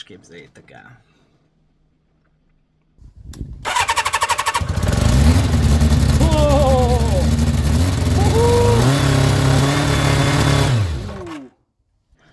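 After a short stretch of talking and a pause, a restored motorcycle engine cranks, catches on its first start-up and runs loudly and steadily up close with slight rev changes for about eight seconds before cutting off.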